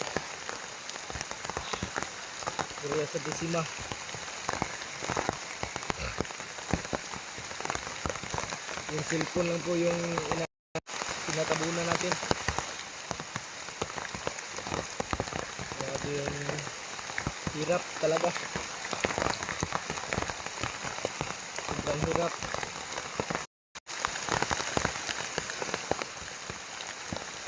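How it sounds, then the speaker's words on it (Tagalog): Heavy rain pours down steadily and loudly on a surface, a dense continuous wash throughout, with someone talking intermittently over it. "Sobrang ulan na talaga."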